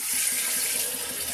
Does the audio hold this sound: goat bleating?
no